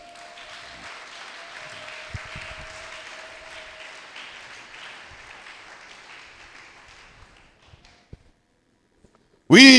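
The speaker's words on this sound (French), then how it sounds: "Et tu ne peux pas applaudir pour ton Dieu." A church congregation at a French-language service applauds in a soft, steady patter that gradually fades to near silence, with a few scattered taps, before a brief loud burst at the very end.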